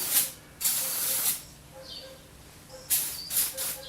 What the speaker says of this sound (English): just give that a bit of a spray as well